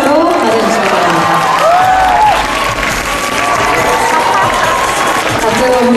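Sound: applause and cheering at an awards ceremony

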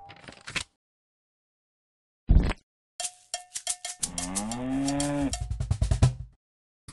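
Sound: cow mooing with cowbell in Play-Doh Seek and Squish game

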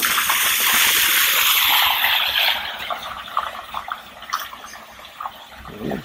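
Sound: vehicle driving through a river ford, splashing water

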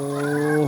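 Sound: chickens on a chicken farm

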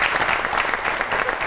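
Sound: studio audience applause

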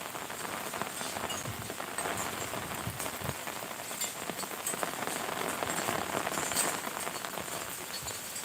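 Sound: heavy rain

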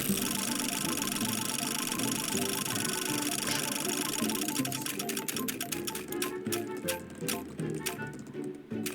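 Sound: prize wheel spinning in the video game Stumble Guys

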